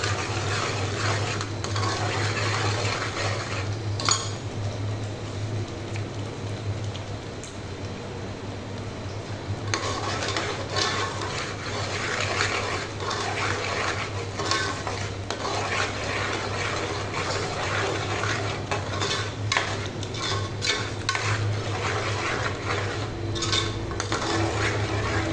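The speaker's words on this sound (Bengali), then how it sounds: "এখন আমি পুরো মশলাটা মিক্স করতেছি" Whole spice mixture being stirred in a pan, soft scraping and clinking of a utensil against the metal, continuous and fairly close over a low steady hum.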